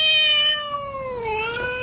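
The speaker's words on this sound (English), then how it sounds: "Very, very angry cat attacks on YouTube." An intensely angry cat lets out a loud, drawn-out caterwauling yowl that bends downward in pitch and then rises again, heard up close with no other sounds.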